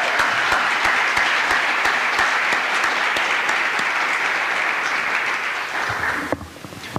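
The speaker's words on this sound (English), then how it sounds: "Let's give a round of applause for this." Conference audience applauding, a loud, steady burst of many hands clapping that fades out near the end, with a voice heard briefly as it dies away.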